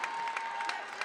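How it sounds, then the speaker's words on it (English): Fans at a girls' varsity high school basketball game against Newton North break into a short burst of applause and cheering. The crowd sounds somewhat distant and fairly quiet. "The crowd goes wild on that one."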